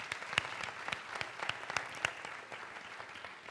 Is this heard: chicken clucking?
no